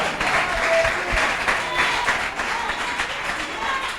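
Church congregation applauds during a French-language sermon, a sustained burst of clapping from many people, moderately loud with scattered individual claps standing out and a slight swell early on.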